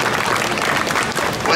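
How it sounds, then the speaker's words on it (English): Theme park audience applauding a volunteer at an outdoor Muppet show at EPCOT, a brief, loud burst of dense clapping from a close crowd, with a little speech mixed in. "Let's give Judy a round of applause for helping us out."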